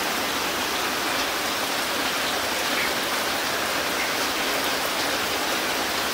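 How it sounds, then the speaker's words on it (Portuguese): Dense, steady downpour of heavy rain on a rural smallholding in Brazil, a loud continuous hiss with no voices or breaks. "A chuva aqui foi tão forte"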